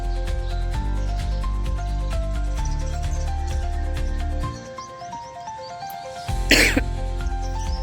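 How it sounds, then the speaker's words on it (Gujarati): A single sharp cough bursts out near the end, following a long stretch of steady humming tones. "ઉધરસ થઈ ગઈ મિત્રો મને પેલું।"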